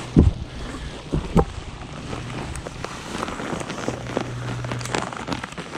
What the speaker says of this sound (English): I could literally hear it in the trees coming up